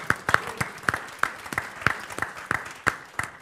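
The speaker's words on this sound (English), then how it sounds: "So a big applause to the audience for staying along with us here." Sparse clapping at a low-carbon seminar, a small handful of individual sharp hand claps in a loose, uneven rhythm, close and distinct against a quiet room, with no talking.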